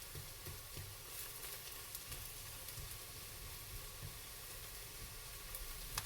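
A mix of coconut oil and olive oil foams and sizzles in a pan: a constant, fairly close crackling hiss with tiny pops, steady throughout with no talk.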